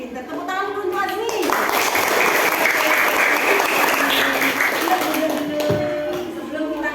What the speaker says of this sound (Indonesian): Tepuk tangan untuk Azmi.